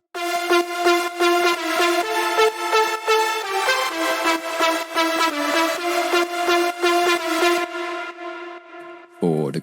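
A bright synth lead layered with a supporting lead in an electronic dance remake, playing a loud, pulsing melodic riff in evenly repeated phrases before stopping abruptly.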